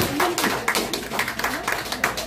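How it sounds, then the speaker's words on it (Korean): Audience clapping at a live candlelight-rally concert in Daegu, welcoming the final encore song; a short burst of fairly loud, rhythmic claps from a crowd, heard close. "오늘 마지막 앵콜곡 큰 박수로 모시겠습니다"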